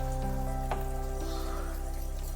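Pointed gourd sizzles in a pan with kasuri methi as it is stirred, a steady close frying hiss with a steady low hum beneath and a brief scrape.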